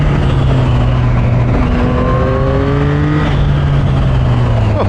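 A 2024 Yamaha MT-09 motorcycle engine revs up through the gears, rising pitch sweeps climbing and dropping back, loud and close and steady under road noise throughout.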